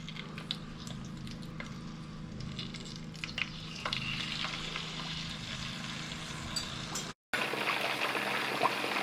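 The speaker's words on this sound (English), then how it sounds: "I'm just going to put my fish in" A whole tilapia frying in hot oil, heard as a steady crackling sizzle with scattered pops and spatters, moderately loud, with a brief dropout near the end and no speech.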